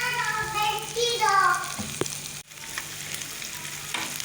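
Chicken feet frying lightly in a moderate amount of hot oil, giving a steady, close sizzle and crackle throughout, with a voice speaking briefly at the start.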